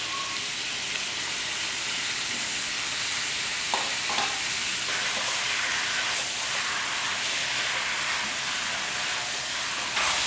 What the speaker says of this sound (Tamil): நல்ல சிக்கன்லாம் நல்லா வதங்கிட்டு இருக்கு